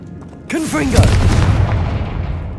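Confringo fire-blast spell exploding in Hogwarts Legacy, a sudden deep boom that swells and rumbles on for a couple of seconds, with a voice speaking as it begins.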